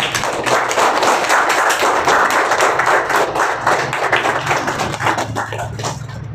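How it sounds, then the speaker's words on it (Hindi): Classroom audience giving loud, sustained applause for a student, with dense clapping that carries steadily for over six seconds and fades slightly at the end. "हाँ विशुन के लिए जोरदार तालियां।"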